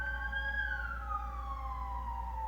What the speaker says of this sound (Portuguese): Deixa eu passar a ambulância que eu já falo.